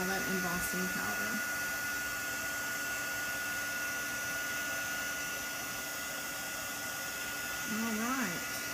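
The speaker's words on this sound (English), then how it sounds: "Get it all heated up real good so it'll melt all that embossing powder." A heat tool blows a steady, loud, even whoosh while melting embossing powder in a crafting session, with brief talk over the start and the end.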